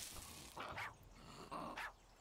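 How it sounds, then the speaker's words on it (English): A dog in a survival video game barks twice, quiet and somewhat distant, with the two short barks about a second apart over faint game ambience. "Another dog."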